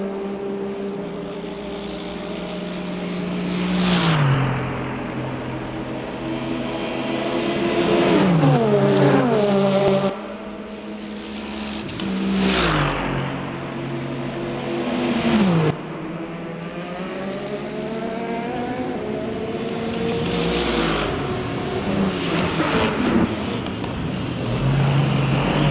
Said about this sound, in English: this LMP2 was a little hot coming in